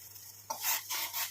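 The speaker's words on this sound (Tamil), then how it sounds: "இப்போ பாருங்கள் நல்லா கொதிச்சுக்கிட்டே இருக்குது" Bubbling, hissing water at a rolling boil in a pot on a stove, rising in a few broad surges over a steady low hum, fairly close.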